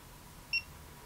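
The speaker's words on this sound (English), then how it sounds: "it kind of beeps at you a couple times" A single short, high electronic beep sounds from a Hioki DT4256 multimeter against quiet background hiss.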